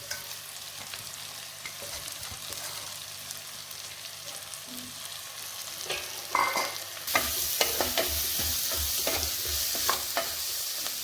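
Onions frying in oil and being stirred for a chicken gravy, a continuous sizzle with scraping stirs that grow louder and busier in the second half, close and alone without speech.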